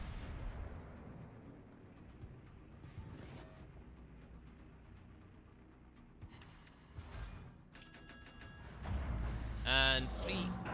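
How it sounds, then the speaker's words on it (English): Naval artillery rumbles and booms in the World of Warships PC game, low distant blasts spread under someone talking, growing into a heavier burst near the end. "Did you request a first-class postage artillery barrage?"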